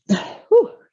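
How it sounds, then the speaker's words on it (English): A single small, dainty sneeze up close: a sharp inhaled burst followed by a brief explosive release, with no talking over it. "I'm going to sneeze, excuse me."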